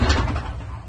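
A cupboard-like door is opened or closed indoors with one close, solid thud at the start, followed by a short rattle and settling noise as the sound fades.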